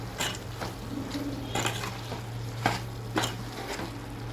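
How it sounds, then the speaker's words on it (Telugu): Chicken curry with chicken masala being stirred in a pot, soft sizzling under repeated scraping spoon strokes against the metal at an unhurried rhythm, close and moderately quiet. "ఇది చికెన్ మసాలా వేసుకొని కలుపుకుందాం"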